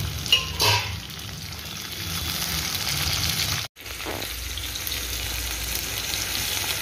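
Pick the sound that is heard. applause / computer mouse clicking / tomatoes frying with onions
tomatoes frying with onions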